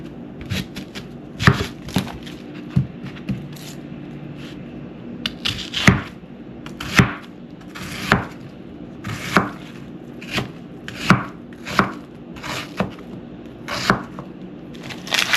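A knife chops onions and vegetables on a cutting board for bihon noodles, sharp close knocks landing in irregular bursts, some quick clusters and some single strokes, with no voices.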